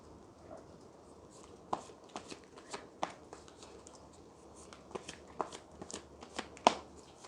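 Oracle cards are shuffled by hand during a tarot reading, a soft, steady patter of flicks and light slaps that sits close but quiet against low background hiss.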